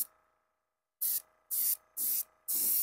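An Iwata HP-CS airbrush sprays paint in four short, even hissing bursts about half a second apart, following a quiet pause, close and clear.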